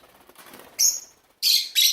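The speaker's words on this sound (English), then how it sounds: "Here's our little birds." Pet birds flying around inside a house give sharp, bright chirps in three short bursts, loud and close, with a faint murmur before them.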